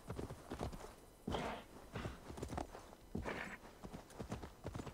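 Horse hooves clip-clop steadily in Assassin's Creed Valhalla, a rhythmic run of close, fairly loud hoof strikes with a few heavier accented beats, heard alone without talk.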